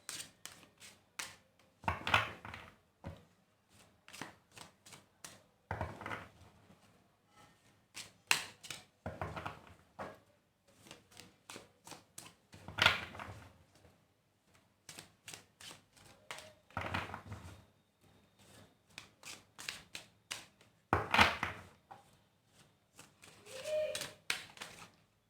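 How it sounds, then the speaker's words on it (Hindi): Tarot cards shuffled by hand in repeated bursts of crisp riffling and tapping, each burst lasting a second or two and separated by short pauses, close and moderately loud with no talking. "बहुत ही ज़्यादा कार्ड को शफल करना पड़ रहा है"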